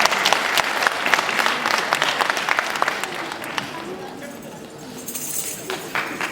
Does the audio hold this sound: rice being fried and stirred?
no